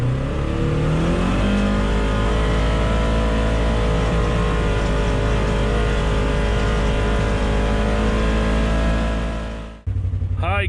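A 2024-or-later Polaris RZR XP 1000 with an Aftermarket Assassins dual muffler runs at high RPM, a loud, steady engine drone that climbs slightly in pitch early on, then cuts off abruptly near the end.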